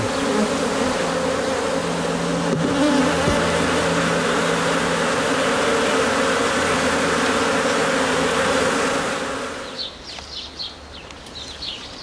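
Hundreds of bees buzz in a dense, loud, steady drone for most of the clip, close by, then the swarm noise drops away near the end, leaving fainter chirps.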